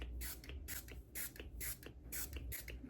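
A detangling primer spray bottle mists onto a section of hair in five quick, evenly spaced hissing bursts, close and fairly faint, with no talking.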